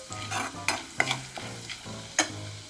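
Chana dal and urad dal fry in oil with mustard seeds for uppittu. The sizzling is crackly and is broken up by several sharp scraping stirs of a spoon in the pan, close up, with no speech.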